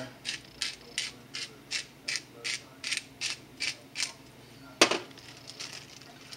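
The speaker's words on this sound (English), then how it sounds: "Some good old pepper out of the grinder." A pepper grinder cranks out pepper over a pan of morel mushrooms: about ten evenly spaced ratcheting grinds, close and crisp, followed by a sharp knock and a few softer clicks.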